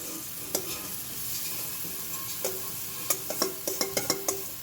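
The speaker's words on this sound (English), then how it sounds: "I want to add the rice into it" Rice being stirred into wilted, browning vegetables frying in a pan, with a soft steady sizzle beneath a series of scraping stirs that quicken into several sharp knocks near the end.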